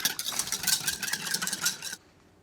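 A whisk beats a vinaigrette of an acidic base with extra virgin olive oil in a bowl, a fast rhythmic clatter and scrape for about two seconds before stopping abruptly.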